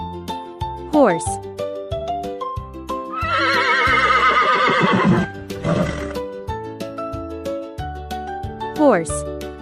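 A horse lets out one long, quavering neigh in the middle, loud and close, with cheerful background music playing throughout.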